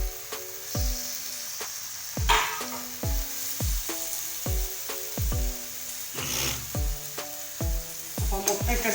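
Eggs frying in a pan for a Kerala-style egg curry, a steady close sizzle broken by repeated sharp scraping or tapping strikes at an uneven rhythm, with no voices.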